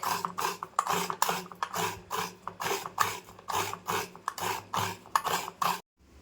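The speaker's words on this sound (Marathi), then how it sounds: "खोबरं किसून झालं आहे दोन्ही वाट्या मी किसून घेतल्यात" Coconut is grated by hand in a Konkan kitchen with quick rhythmic rasping strokes, about a dozen close scrapes in a steady pattern that stop abruptly at the end, with no talk.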